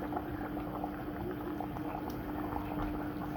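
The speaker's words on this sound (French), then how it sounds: "Voilà que la sauce a commencé à bouillir." Pumpkin seed sauce boiling in a pot, a steady close bubbling and simmering with soft pops, no talk over it.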